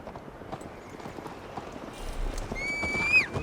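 A horse in the game Assassin's Creed Valhalla gallops with quick, steady clip-clop hoofbeats that grow louder toward the end, followed by a sharp neigh.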